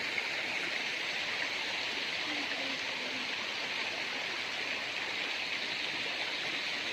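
A small river stream flows steadily with a continuous broadband rushing and babbling, even and unbroken throughout, close by and moderately loud with no talking.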